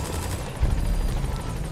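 Helicopter in the video game Metal Gear Solid V: The Phantom Pain, a steady loud rotor drone filling the whole stretch with a heavier thump partway through.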